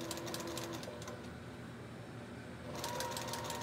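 A home sewing machine stitches fabric for face masks, a fast rattling mechanical chatter that runs, eases off briefly in the middle, then picks up again, faint and close with no talk.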